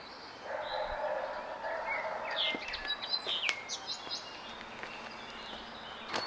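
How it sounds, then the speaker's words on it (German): Birds sing outdoors in a residential setting, with a cluster of bright chirps and short calls in the middle over a soft, steady background hiss. "weiß nicht, ob ihr diese Vögel hört."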